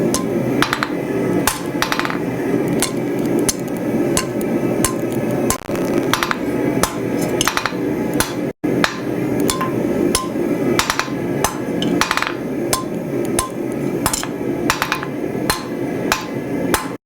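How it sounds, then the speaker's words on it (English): Steady, rhythmic hammer blows ring off a blacksmith's anvil throughout, each strike sharp and metallic, close and loud, with a brief pause midway before the hammering resumes. "The noises of smithing are so wonderful. I love it. And this particular anvil makes some beautiful noises"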